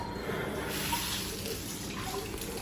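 Water rinsing a dog during a bath, a continuous close spray and splash of running water with no break.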